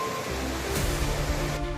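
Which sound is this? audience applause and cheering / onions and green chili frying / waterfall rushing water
waterfall rushing water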